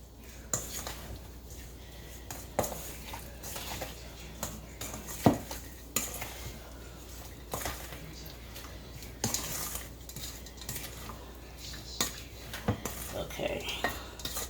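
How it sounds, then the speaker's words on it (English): Cherries are stirred with a pinch of salt in a bowl, making faint, irregular scrapes and light clinks that repeat softly for the whole stretch. "then we're going to stir this mixture up."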